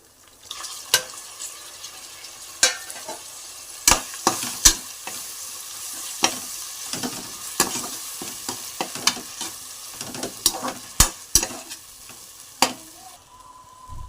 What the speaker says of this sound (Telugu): వేసుకొని టమాటాలు బాగా మగ్గేదాకా ఫ్రై చేసుకోవాలి